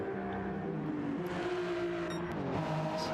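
Engine of the Adidas Hypercar in a racing game, a steady droning whir that dips and shifts pitch as the car slows under braking, continuous and close with no talk.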